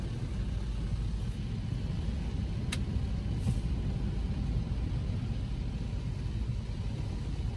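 An automatic car wash at an Ocean Car & RV Wash location in Airdrie, Alberta, with its machine brushing a car, giving a loud, steady, dense rumble throughout and a brief higher swish partway through.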